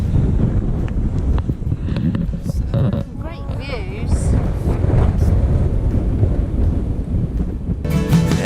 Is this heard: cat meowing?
no